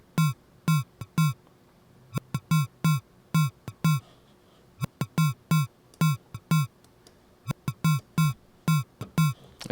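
An electro drum loop, run through drive and a sample-and-hold bit crush, sounds as punchy, gritty synthetic kicks and crunchy clicks in a syncopated repeating pattern, close and dry with no voice.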